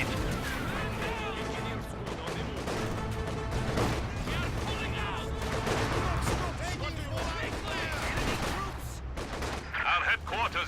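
Battle in a strategy video game brings bursts of gunfire, machine-gun rattle and heavier artillery blasts, continuous and dense, with a voice speaking over the combat.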